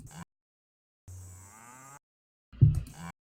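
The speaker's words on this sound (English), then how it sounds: "I apologize if you don't like the mooing." Several cow moos from the video game Destroy All Humans!, three separate lowing calls with silent gaps between them, the last one the loudest and sharpest, heard alone without talk.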